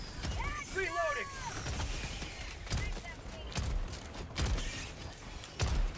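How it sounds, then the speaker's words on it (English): Weapon reloading in the video game Helldivers 2: mechanical clicks and creaks amid scattered gunfire bursts, with a voice speaking over the action. "Reloading."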